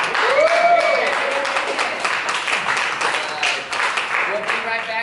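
Audience applause and cheering on a radio-style show, a broad steady wash of clapping lasting several seconds, with voices whooping over it.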